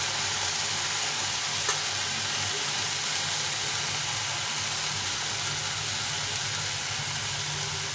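Boiled, mashed red potatoes frying with spice mix in a pan, a continuous soft sizzle under a low steady hum, fairly quiet and even with no talk.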